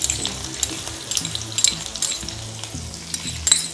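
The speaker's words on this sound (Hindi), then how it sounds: "साथ ही मैं इसमें लहसुन भी डाल दूंगी।" Garlic, cumin seeds and green chilli sizzle and crackle in hot ghee in a pan while cooking bathua dal, a steady close frying hiss with sharp spitting pops and some stirring throughout, no voices.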